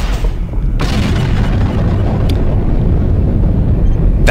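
A smart bomb detonates in the strategy game Revenge of the Titans, a loud sustained booming rumble that fills the whole few seconds, with brief sharp bursts at the start and end.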